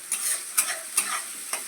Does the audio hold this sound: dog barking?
no